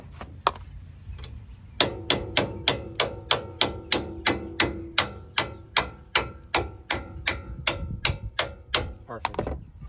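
A hammer strikes metal in a steady series of about twenty sharp, ringing blows, close by, with a few scattered taps before the rhythm settles, while installing a level kit on a 1995–2004 Toyota Tacoma.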